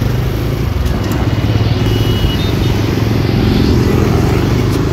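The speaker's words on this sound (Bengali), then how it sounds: "বাইক দিয়ে ঘুরে বেড়াচ্ছি" A motorcycle ridden through Kolkata streets gives a loud, steady engine drone with constant road and wind rumble throughout, no clear talking.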